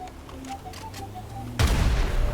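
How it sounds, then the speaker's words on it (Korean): Gunfire in the video game GTA 5, a sudden loud burst of shots breaking in after a short stretch of quiet game tones and ticks, then continuing as a dense rumble to the end. "지금 12발 쐈죠?"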